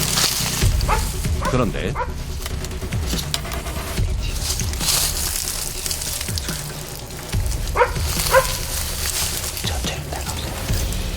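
Hunting dogs bark again and again during a wild boar hunt in a thicket of kudzu vines. The barks are loud and repeated, with yips and whimpers, and someone speaks over them outdoors.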